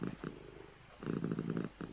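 A cat purrs close and steady in two stretches, a short burst and then a longer rumbling run, separated by a brief quiet gap.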